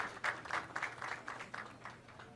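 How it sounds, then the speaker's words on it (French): Audience applause for the president of the CSPJ at a formal ceremony, a moderate round of clapping with rhythmic surges that slowly fades, with no talk over it. "Mesdames, Messieurs, applaudissez le président du CSPJ"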